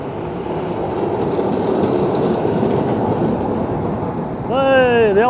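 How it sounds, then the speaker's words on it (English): An old Blackpool tram passes close by with a loud steady rumble and rolling wheel noise, and a voice begins talking just as it goes by. "Oh, we've got another old tram coming."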